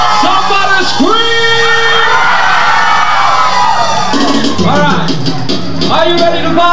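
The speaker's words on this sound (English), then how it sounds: "Somebody scream!" Live concert crowd screaming, whooping and cheering loudly and continuously at a show, a dense roar of many voices with rising yells layered throughout.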